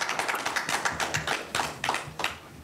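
Audience clapping at a township planning commission meeting: a steady patter of hand claps from a modest crowd, with a few sharper, louder claps standing out, continuing throughout with no talk.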